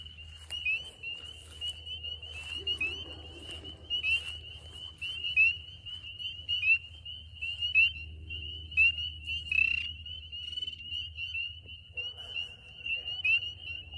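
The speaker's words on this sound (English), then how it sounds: "I think those are spring peepers anyways." Spring peeper frogs calling at night, high piping peeps repeating steadily at a moderate distance over a low rumbling background, with other faint chirps and croaks mixed in.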